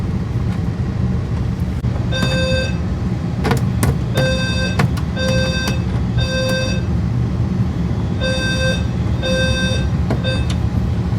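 A home fire alarm system sounds off after losing contact with a detector, with a furnace running nearby: loud repeated bursts of a piercing, steady electronic tone in uneven groups over a constant low rumble of airflow.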